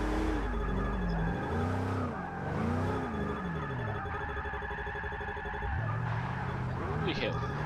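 A GMC Vandura van drifts in Forza 6, its engine revving in rising and falling sweeps as the tires squeal through long slides, with a player talking over the gameplay.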